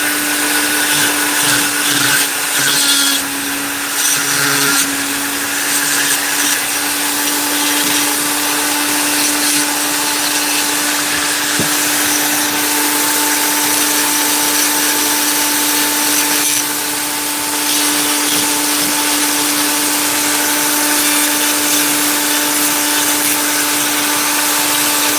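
A rotary tool fitted with a carving burr grinds into wood with a steady, loud high-pitched whine, the cutting rasp rising and falling slightly as the burr bites, running continuously without talk.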